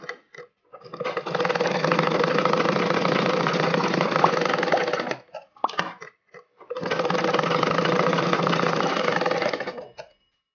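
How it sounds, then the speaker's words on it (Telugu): A sewing machine stitches an umbrella frock in two long steady runs of whirring, separated by a short pause with a few brief bursts. The stitching is close and loud throughout. "అదే విధంగా రెండో వైపును కూడా స్టిచ్ చేసుకోవాలి."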